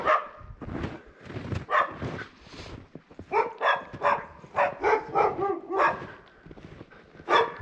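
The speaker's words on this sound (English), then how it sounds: "There's the 2 dogs I was telling you about." Two dogs bark rapidly and repeatedly in a village outdoors, a near, loud run of overlapping barks with brief pauses.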